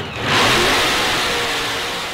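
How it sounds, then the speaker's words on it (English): A Corvette sports car engine revs up hard, a loud, close roar that swells quickly and then holds as a sustained throaty drone to the end. "You hear that? That's the sound of America's only sports car."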